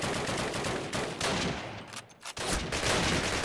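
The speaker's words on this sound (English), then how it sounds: "Firing a very loud weapon" Loud weapon firing in Call of Duty, dense sustained gunfire with brief gaps, close and heavy throughout, no talk.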